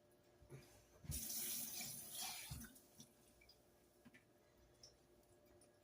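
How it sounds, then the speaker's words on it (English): Water pours from a tap into a crockpot holding a beef roast, a close rushing stream for about two seconds, then a few drips and clinks in a quiet kitchen. "since there's a little more in there, I added just a little bit of water"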